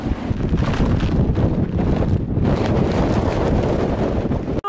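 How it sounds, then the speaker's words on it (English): Strong wind gusting over an exposed hillside on a North Island ranges hike, a loud continuous roar buffeting the microphone throughout with no letup. "I think the wind is getting stronger."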